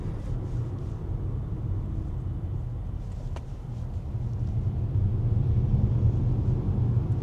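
A 2026 MG HS Hybrid with a turbocharged engine pulls forward, heard from inside the cabin as a steady, subdued low drone that swells slightly toward the end, with no voices.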